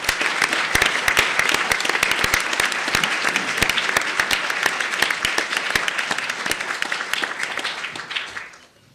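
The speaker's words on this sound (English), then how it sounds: "please join me in a hearty round of applause" A hearty round of applause at a divinity school honors event greets a professor being honored, with many hands clapping close and steady before fading away over the last second.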